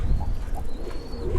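Pigeons in a loft give a couple of soft, low coos, close by and quiet, with no other sound over them.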